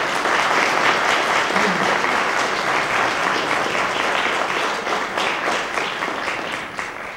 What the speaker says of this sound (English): How about a large round of applause?